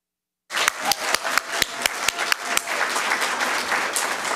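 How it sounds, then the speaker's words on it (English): Audience applause at a school board's annual distinguished service awards ceremony, starting abruptly after silence with sharp individual claps standing out at first, then settling into a steady, dense wash of clapping. "Please join me in applauding and acknowledging their heart to"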